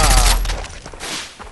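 Skorpion submachine gun firing in Far Cry 3, a rapid close burst of shots that trails off into scattered echoing reports.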